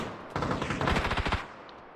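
Several rapid gunshot blasts from a pump-action shotgun in the battle royale game PUBG, a loud dense burst lasting about a second with no talk over it.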